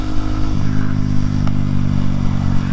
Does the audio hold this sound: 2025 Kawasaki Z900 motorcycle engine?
yes